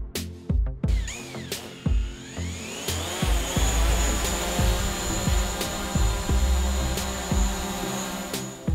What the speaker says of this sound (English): the Mavic Pro Platinum gets on average 4 decibels quieter than the Mavic Pro